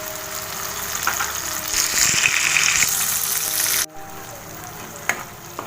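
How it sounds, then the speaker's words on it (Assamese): Tomato puree hitting onions already frying in a pan for an Assamese tangy fish curry, a loud steady sizzle that swells as it goes in, then cuts off sharply before a few faint clinks. "পিঁয়াজখিনি অলপ ভজা হোৱাৰ পিছত আমি এয়া টমেটো পিউৰিখিনি দি দিম।"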